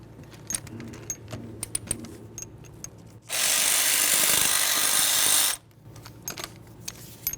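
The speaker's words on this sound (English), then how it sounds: "Let's start by removing each of the 12mm mounting nuts." Nuts on the intake manifold of a 2012-2018 Nissan Altima 2.5L four-cylinder are loosened with a 12mm tool: light clicks and taps, then a loud steady burst of a power tool running for about two seconds before quieter handling noises resume.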